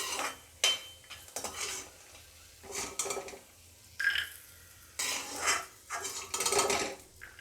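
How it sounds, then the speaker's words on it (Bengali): Fried peanuts being scooped out of a pan while making crispy patties, a series of bright metallic clinks and scrapes of a utensil against the pan in irregular bursts separated by quieter gaps, close and alone. "এখন আমি বাদামটাকে তুলে নেব।"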